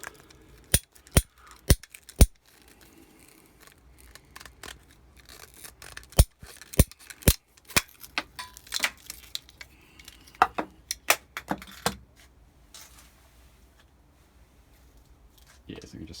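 Sharp snips cutting through a plastic T-piece aeration fitting for a wormery, a series of crisp separate clicks and crunches at close range, bunched in irregular bursts with short pauses between.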